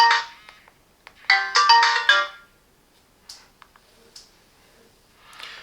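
Alarm ringtone of a TCL Onetouch 4043 phone: a bright electronic melody in a few quick bursts over the first two seconds, followed by fainter scattered chirps and tones. No one speaks.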